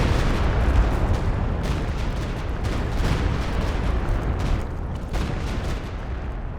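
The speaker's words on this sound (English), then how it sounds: "And now do you have a rocket barrage right there" A rocket barrage in the Company of Heroes 2 war game: a dense, continuous roar of overlapping blasts and rumbling explosions, loud and sustained throughout.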